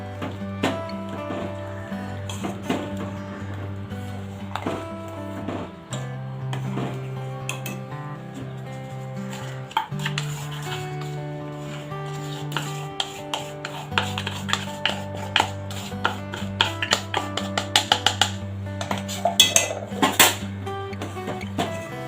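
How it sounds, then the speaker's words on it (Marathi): A spoon scrapes and clinks around a pot of sabudana kheer with cardamom and sugar, a steady rhythmic stirring under quiet background music, with no talk. "चांगलं मिक्स करून घेऊया"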